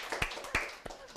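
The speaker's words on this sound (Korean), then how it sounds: "박수 한번 주실까요?" A few sharp claps from a lecture audience ring out sparsely, spaced apart, more like scattered individual hand claps than full applause, fairly close and moderate in volume.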